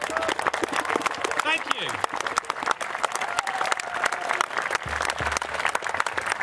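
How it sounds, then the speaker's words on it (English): An audience applauds steadily throughout at a talk on NATO, with a voice speaking briefly over the clapping. "Please give yourselves all a round of applause just for being here, please."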